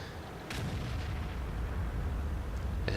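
In World of Tanks, the SU-100Y tank destroyer's heavy gun fires twice, each shot a sharp booming blast separated by a couple of seconds over a low rumbling battle backdrop. No one talks.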